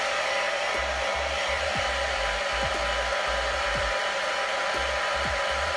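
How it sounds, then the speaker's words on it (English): Handheld hair dryer blowing hair from a few inches away, a loud steady rushing whoosh with a low motor drone that holds constant throughout, with faint dull bumps beneath. "start to blow dry your hair"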